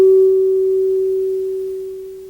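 A struck U-shaped metal tuning fork rings a single steady pure tone, loud and close, fading slowly over about two seconds with no other sound.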